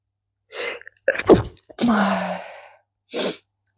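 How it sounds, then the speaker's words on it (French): A single person sneezes sharply, with a gasping intake before and a short breathy exhale afterward, close and alone without talk. "J'ai éternué."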